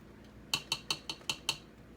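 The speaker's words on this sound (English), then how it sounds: "let's go ahead and add in our yogurt. And we'll stir that in really well" Spoon stirring yogurt into a warm mixture of aged herbs and oils, six evenly spaced bright clinks of metal against the bowl, close and distinct over a quiet background.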